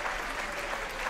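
A school audience applauds student presenters at a high school writers' event, a steady close wash of clapping that fills the whole brief moment.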